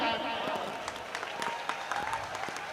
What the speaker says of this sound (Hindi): और तालियां तुम इस बात पे बजा देना